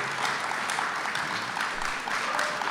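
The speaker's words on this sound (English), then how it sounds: "Hey, Bob, they're applauding you." An audience at a public commission meeting applauds, a steady, dense clapping heard at moderate distance throughout the short stretch.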